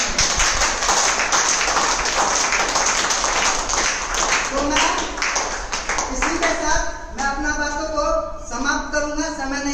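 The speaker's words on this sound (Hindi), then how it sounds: "तो गुरु के लिए एक जबरदस्त ताली होनी चाहिए।" An audience at a DXN training event breaks into loud, sustained clapping for the guru, dense and energetic, thinning toward the end as individual hand claps become audible, with voices mixed in.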